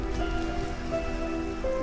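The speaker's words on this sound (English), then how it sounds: "Be prepared for the rain." Rain falls steadily in Minecraft, a constant close patter and hiss with faint tonal game sounds underneath.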